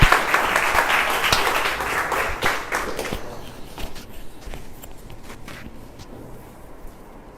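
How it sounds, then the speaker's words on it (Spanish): Audience at a history lecture applauds to welcome the speaker, a full round of clapping that starts strong and gradually thins and fades toward scattered claps. "Un aplauso para él, ¿verdad?"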